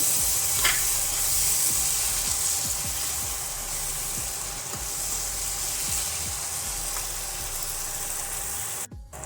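Tadka with crushed dried fenugreek leaves frying in oil for a lobia dal, a steady loud sizzle throughout with occasional soft stirring clicks, close and without talk, cutting off briefly near the end.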